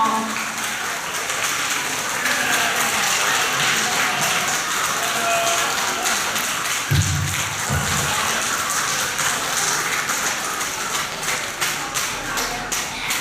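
Sustained applause from a school audience for students receiving a Catholic activities participation award at a senior-form closing prize-giving, a dense steady patter of clapping throughout with a couple of low thumps midway.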